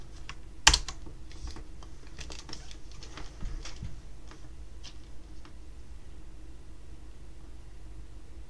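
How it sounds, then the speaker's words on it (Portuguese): Keys pressed on an X68000 computer keyboard: one sharp clack, then a scattered run of quick, light typing clicks that thin out, close up, with no talking over them. "E tem que apertar essas teclas aqui: XF3, XF4, XF5, que só tem no teclado do X68000."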